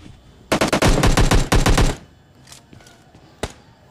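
Automatic gunfire from the video game PUBG Lite: two loud rapid bursts of shots over about a second and a half, followed by a few fainter, more distant reports and one sharp single shot, with no talk.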